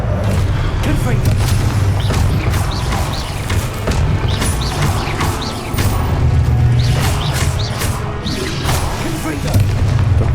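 Repeated Confringo blasting curses in Hogwarts Legacy boom loudly one after another, bursts of explosions layered over a dense rumbling battle din, with a voice calling out the spells.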